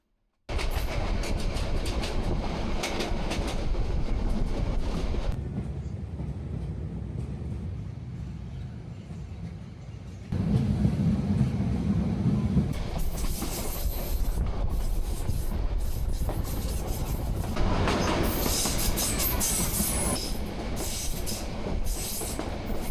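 A passenger train on the Dhaka to Cox's Bazar line rolls along the rails with a steady, loud rumble and clatter; wheels squeal briefly partway through, and one stretch turns quieter.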